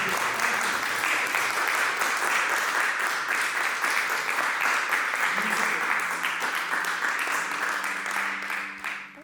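Sustained applause from an audience at an arts event inside a Birmingham museum, steady and full throughout before tapering off at the end.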